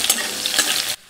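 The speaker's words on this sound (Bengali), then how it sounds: "ফোড়নটার মধ্যে আগে মুলোগুলো দিয়ে দেবো" Radish pieces fry in hot oil with dried red chilli and five-spice tempering, giving a brief, loud, crackling sizzle that cuts off abruptly.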